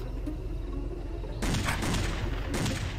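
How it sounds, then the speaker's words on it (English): Gunfire in a Ronald McDonald horror video game: after a low murmur of background ambience, a sudden loud burst of shots erupts, followed by a second sharp blast near the end. "He just fucking shot me!"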